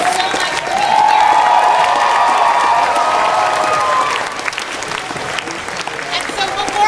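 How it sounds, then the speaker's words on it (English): Loud applause and cheering rise from a convention panel audience at Anime Expo 2017, a broadband roar of clapping with shouts that swells, holds steadily for several seconds, then eases back to a lower crowd murmur. "Let's have a huge round of applause for our guests."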